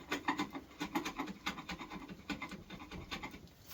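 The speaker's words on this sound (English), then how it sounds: "Get the blobs of glue off, a little bit of planing." Hand scraping and light planing across bass guitar wood to remove dried glue blobs, a run of quick rasping strokes in a steady rhythm, close and moderately loud, with no talking.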